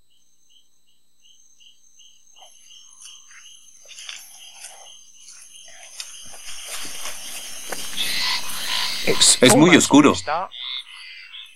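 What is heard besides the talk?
frogs croaking at night in Brazil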